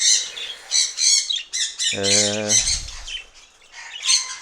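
Budgerigars in an aviary let out a burst of squawks and chirps, several birds calling at once at close range, with a short low-pitched voice sound in the middle.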